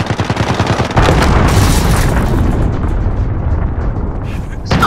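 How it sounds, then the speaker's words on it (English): Cruise missile explosion in Call of Duty: Modern Warfare multiplayer, a heavy booming blast that hits suddenly and rolls on as a long loud rumble mixed with gunfire, with voices faintly beneath. "Enemy cruise missile incoming"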